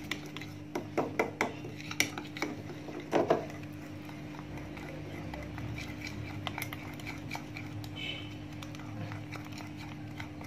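Utensil scraping and clinking against a bowl as grated ginger, vinegar and apple are stirred together, a run of sharp clicks early on, then a quieter steady mixing under a constant low hum.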